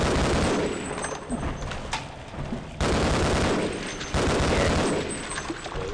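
Gunfire in Half-Life: dense, loud bursts of shots in several waves, each booming onset followed by ragged rapid fire, close and continuous with no talk.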